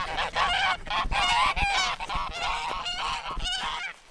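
Geese honk loudly and repeatedly at close range, a dense overlapping chorus of harsh calls filling the whole stretch without pause.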